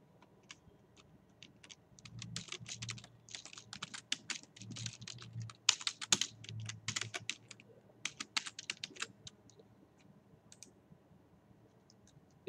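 Fingers type on a computer keyboard at close range, quiet bursts of rapid key clicks with short pauses between, and no voices.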